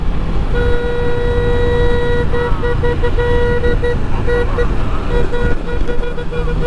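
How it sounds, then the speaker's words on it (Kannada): A single car-type horn fitted to a motorcycle at DD Hills sounds loud and close, first one long sustained blast and then a string of quick choppy honks over rumbling engine and road noise. "car horn ಹಾಕ್ಬಿಟ್ಟವನು"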